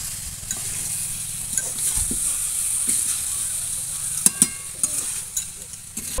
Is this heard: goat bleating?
no